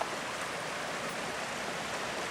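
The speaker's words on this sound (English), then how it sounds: "this is the creek across from Shady Rill Baptist Church" A small creek opposite a Baptist church in Vermont flows with a soft, constant rushing hiss, steady and unbroken, with no talking over it.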